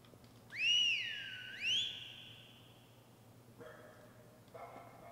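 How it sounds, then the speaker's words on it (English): A dog whistle in the video game Lost in Vivo gives two bright rising-and-falling whistle blasts, followed by a dog's short yips and barks answering faintly in the distance. "The dog whistle mechanic is amazing for like navigating these areas."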